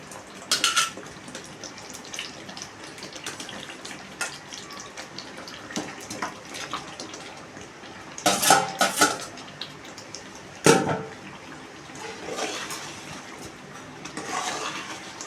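Metal spoon stirring spice masala in a cooking pot for a Telugu stuffed eggplant and chicken curry, steady scraping with sharper clanks and knocks as chicken goes in, moderately close, no talking.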